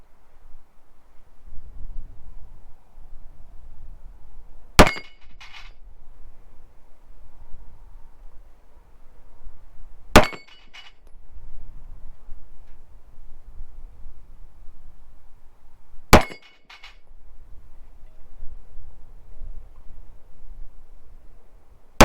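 Three sharp gunshots from a Glock 19 or suppressed 22LR crack over a chronograph at roughly five-second intervals, each a loud, abrupt report with a quick echo, set against quiet outdoor background rumble.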